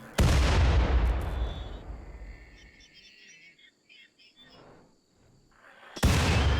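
Video game gunfire from a prehistoric tribal base: a loud blasting shot opens, a long rumbling decay with faint insect-like chirps follows, then another heavy shot lands near the end.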